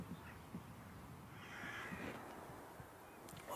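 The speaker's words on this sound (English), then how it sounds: "there's plenty of activity from crows, I can hear them circling around, and they're very interested in the bait" Crows circling around bait give repeated caws, faint and distant over a soft outdoor hiss.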